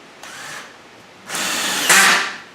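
A power drill drives a screw into wood while building a planter box, the clutch slipping as the joint pulls tight; two close whirring bursts, the second louder and longer.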